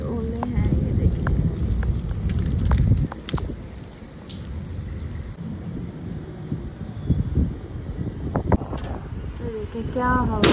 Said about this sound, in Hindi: ये देखिए क्या हवा चल रही है, बहुत तेज।